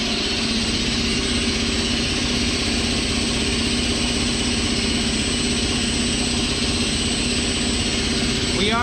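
An air compressor driven by a Huanyang VFD runs at a steady, constant drone with a low tonal hum and broadband hiss, close and unchanging throughout.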